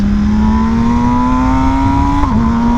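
An MV Agusta Brutale motorcycle engine holds a loud, close, steady drone with rising pitch, then a quick dip as the throttle shifts before the engine settles again.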